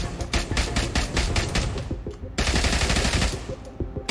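An M4 rifle with a 4x scope fires in a VR shooter game, rapid automatic bursts of sharp cracks in quick succession, loud and near, with a short gap before another sustained burst.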